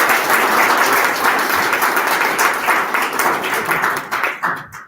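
Loud, dense audience applause at a London founders' pitch night, many people clapping together close by, sustained and then tapering off near the end.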